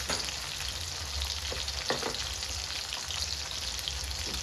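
Tomatoes fry in a pan with a steady, dense sizzle and crackle, a few soft stirring scrapes breaking through, close and alone without talk.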